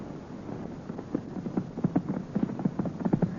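Horse hooves clip-clop in a quick, steady galloping rhythm on a ranch ride, close and fairly loud with faint wind noise behind.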